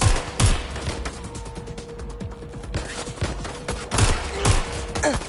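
Gunfire rattles in rapid bursts with heavy thumps during a firefight in the video game Watch Dogs: Legion, loud and continuous with sharper volleys near the start and end.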